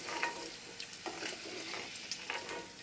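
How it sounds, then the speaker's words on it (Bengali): Onion and capsicum fry in a wok, with a soft steady sizzle and a few scraping stirs of a spatula, faint and close with no voices. "এবার এই কড়ার মধ্যে দিয়ে দেবো পেঁয়াজ আর ক্যাপসিকাম।"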